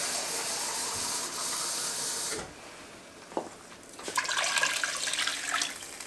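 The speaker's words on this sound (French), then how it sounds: "Je vais ajouter mon bouillon directement dedans" Broth poured from a container into a pot of stew with potatoes and vegetables in a home kitchen, a steady watery splashing hiss that stops partway, then a knock and a brighter pouring splash close by, with no talking.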